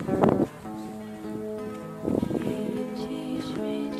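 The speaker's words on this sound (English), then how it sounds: "Sorry about the wind." Wind gusts buffet the microphone high up on St Catherine's Hill in low rumbling bursts, with steady blustery noise in between.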